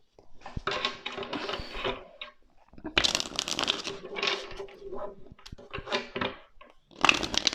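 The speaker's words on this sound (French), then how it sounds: "je rebrasse une carte" Tarot cards are reshuffled by hand in several separate close bursts of papery riffling and slapping, with short pauses of near silence between them.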